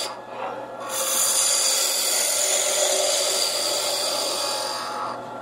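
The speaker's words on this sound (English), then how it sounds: "using the bevel to support the cut and peeling the material off very lightly" A woodturning lathe tool takes light peeling cuts off a spinning workpiece, the bevel riding the surface, giving a steady close hissing rasp that starts after a brief quieter moment and holds evenly for several seconds.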